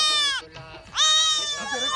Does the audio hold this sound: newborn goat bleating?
yes